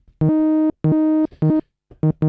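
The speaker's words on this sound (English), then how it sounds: "So you get this Game Boy-like sound." Bright, buzzy chiptune synth notes from an ASM Hydrasynth in short separated bursts, stepping between pitches an octave apart, loud and close, like an old handheld game console.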